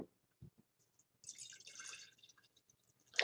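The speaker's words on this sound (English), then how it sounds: "I'm going to put it into this jar. I'm going to add some tonic water." Tonic water poured into a jar in a home kitchen: a few soft drips and taps, then a brief fizzy trickle of liquid, quiet and close, ending with a sharper splash.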